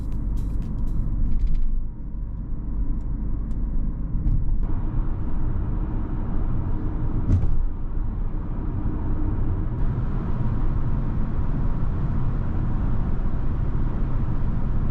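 Steady low rumble of road and engine noise inside the cabin of a 2018 Audi A7 50 TDI (286 hp) on the move, a constant muffled drone with no talking.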